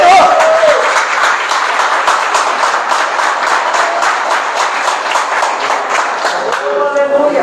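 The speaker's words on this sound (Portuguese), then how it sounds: "Pode aplaudir o Senhor" A church congregation applauds steadily for several seconds, a dense even wash of many hands clapping close and loud, with a brief voice or tone near the start and end.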